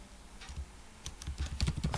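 Keystrokes on a computer keyboard, sparse at first and then quicker and denser, with clustered taps toward the end, close and fairly quiet with no voices.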